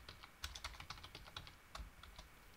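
Quick, light clicking of typing on a computer keyboard while entering a MySQL command, a steady run of soft close keystrokes with no talk.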